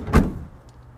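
A VW Transporter T6 side sliding door shuts with a single solid, close thud that settles quickly into quiet cabin hum.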